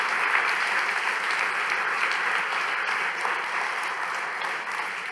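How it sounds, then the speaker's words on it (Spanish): A church congregation applauds together during a sermon, a dense, steady wash of clapping from many hands that holds at an even level throughout, with no speech over it. "vamos iglesia, si vamos a aplaudir"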